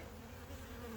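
A small ball of honeybees on the ground buzzes in a dense, continuous drone, close and steady throughout, with no voices.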